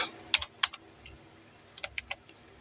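A few quiet keystrokes on a computer keyboard while searching for a site, two quick taps then a short burst of three, close and alone with no voice.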